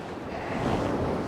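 Strong gusting wind buffets the microphone on a sea shore, with a broad roaring rush and waves behind it, loud and continuous over a short moment with no talk.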